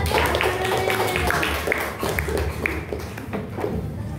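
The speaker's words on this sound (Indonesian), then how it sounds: "tepuk tangan untuk kelompok 1" A classroom group of students claps for a student group during an Indonesian science lesson, a steady patter of many hands that runs throughout over noisy room chatter.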